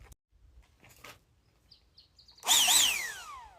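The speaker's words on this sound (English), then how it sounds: "Handheld blower, blowing the dust off the back of the vehicle before I open it up" A handheld blower blasts dust off the back of a vehicle at a desert campsite. After a few quiet taps, it starts up loud and close, its motor whine rising and then gliding down as it runs.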